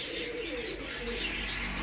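Pigeons cooing, with soft low coos under a constant background hum and faint chirps nearby, brief and continuous.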